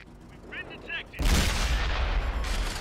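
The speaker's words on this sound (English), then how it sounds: "Oh, that was a pretty quick shot there, pal." A tank gun shot in the World of Tanks console game: a sudden loud, broad blast about a third of the way in that rumbles on heavily to the end, following a few faint chirpy game sounds.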